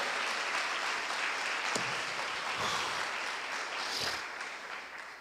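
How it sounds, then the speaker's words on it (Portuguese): A Catholic congregation claps together at a priest's call to applaud the Lord, a steady wash of many hands clapping at moderate loudness throughout with no talk over it. "aplauda ao Senhor"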